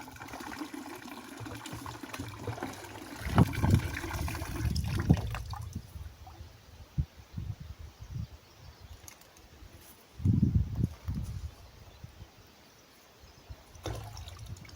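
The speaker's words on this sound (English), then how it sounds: "I might just put some water in the buckets and in that big pan over there" Water poured into buckets of gold-bearing dirt while crevicing for gold at Hill End, heard as two loud splashing, trickling bursts separated by quieter rustling and handling noise outdoors.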